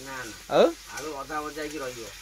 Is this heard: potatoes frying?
yes